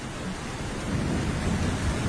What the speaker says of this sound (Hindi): तूफान के साथ साथ तेज बारिश शुरू हो जाती है